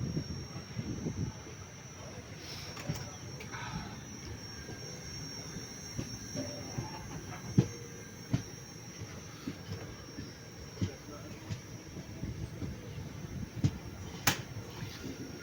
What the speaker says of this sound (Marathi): पाठून एक ट्रेन पास झाली आणि आता निघाली.